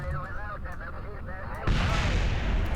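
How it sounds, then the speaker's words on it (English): A sudden, loud explosion bursts in partway through, leaving a sustained, roaring rumble in the Kerbal Space Program video game, after softer game sounds with faint tonal noises. "I just like to hear the explosion sounds occasionally."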